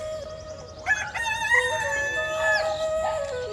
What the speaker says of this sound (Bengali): আর মুরগিগুলো ডাকছে কত সুন্দর,